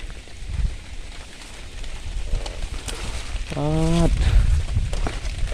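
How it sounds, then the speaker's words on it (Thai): Rain falls steadily at the Thai–Myanmar border while mushrooms are gathered, a soft broadband patter that swells louder in the second half, with a brief tonal call partway through. "ปิดกล้องไปเรื่อยๆนะครับ เพราะว่าฝนตกเนาะครับ"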